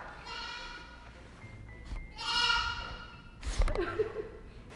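A goat bleats loudly nearby in a couple of wavering, nasal calls spread over a few seconds, set against background rumble with no talking over them.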